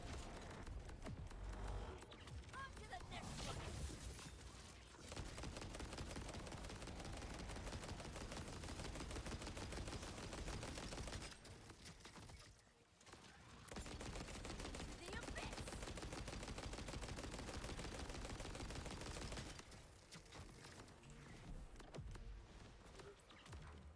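Sustained rapid gunfire from a Vladov weapon in the video game Borderlands 4, loud and dense bursts nearly continuous with brief pauses around a few seconds in, no talk.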